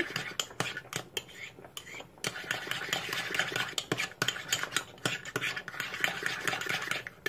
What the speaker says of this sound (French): Bien mélanger les ingrédients.